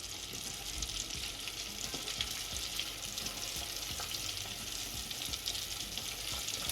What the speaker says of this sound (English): indulge in the sound of ASMR of my chicken frying